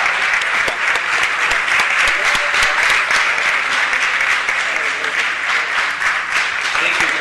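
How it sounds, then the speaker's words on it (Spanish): Steady, dense applause from the audience at a Santa Monica city council meeting, loud and sustained throughout with little variation. "Un aplauso para Rick Paul."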